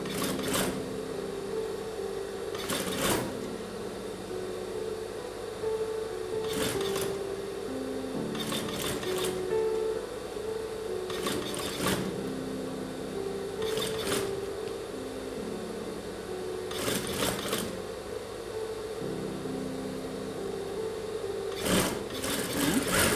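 A sewing machine hums steadily as it stitches the hem of a homemade doormat, with short stops and restarts breaking the whirring rhythm every few seconds.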